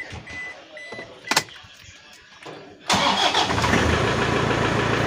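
A Toyota Hilux diesel with a P0488 exhaust gas recirculation fault cranks briefly after a few beeps and clicks, then catches and settles into a loud, steady close idle with no talk.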